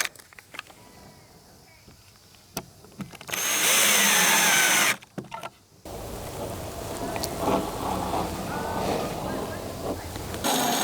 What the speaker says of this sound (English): And we'll screw these in.